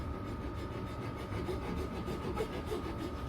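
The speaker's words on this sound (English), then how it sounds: "I'm just using the file on its edge" A metal file worked on its edge rasps against the lug of a powder-coated 1920s Raleigh bicycle frame, a quiet continuous scraping close by with slight rhythmic strokes and no talk.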